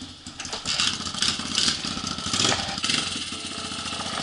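Honda pit bike engine running in snow during a May blizzard, a loud, steady mid-pitched motorcycle idle with a few rises in revs, close by and heard alone with no talking.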